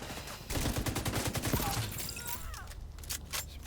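A light machine gun in The Division 2 video game fires a rapid, loud burst of rattling shots lasting about a second, then its echoing tail and mechanical clatter fade into quieter game noise.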